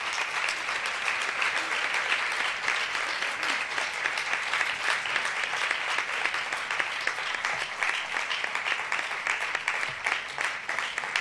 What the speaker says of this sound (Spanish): Así que eu vos pido un forte aplauso para Rosa Cobo.